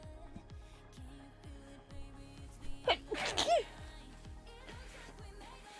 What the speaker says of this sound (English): I'm going to sneeze again, I'm so sorry.